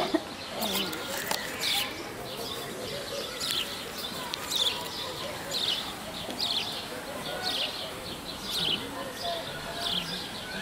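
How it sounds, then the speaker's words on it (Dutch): Small birds chirp repeatedly in short regular bursts, fairly close, while people talk nearby throughout. "Oh, de vogeltjes"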